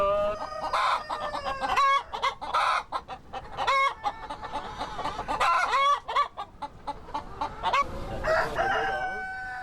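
Free-range farm chickens cluck busily and overlapping at close range, with a rooster crowing among them, in a lively flock chorus with brief pauses.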